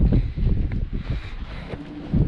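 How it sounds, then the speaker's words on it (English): Wind blows through a quiet street in Split, Croatia, a steady low rumbling buffet that swells near the start and again at the end, with faint rustling and no clear talk. "It's like a wind tunnel."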